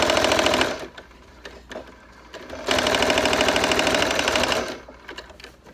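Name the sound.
sewing machine stitching a crib sheet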